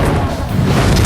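A firecracker explodes, heard as a loud, broad boom with a dense low rumble that carries through the full second, with no clear separate bangs and no voices.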